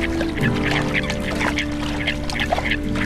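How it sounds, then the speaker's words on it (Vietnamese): Flock of Eurasian coots on Lake Constance, a busy close chorus of short honking and clucking calls overlapping continuously over water. "Bầy sâm cầm tìm kiếm rong dưới đáy hồ."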